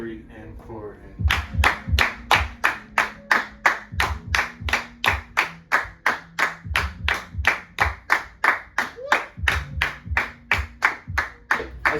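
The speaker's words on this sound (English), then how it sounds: "Clap it up. 1 and 2 and 3 and 4 and" Hands clap a steady run of evenly spaced eighth-note beats in a drum lesson, crisp and close, while a voice counts aloud beneath the claps.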